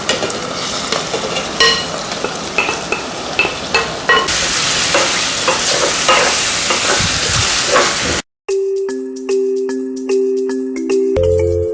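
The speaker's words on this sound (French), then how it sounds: "je vais venir rajouter ma viande que j'ai déjà mélangée avec mes épices" Spiced meat sizzles loudly in a pan while it is stirred, with repeated scraping strokes over the frying, and then gives way to a few clear, sustained tones near the end.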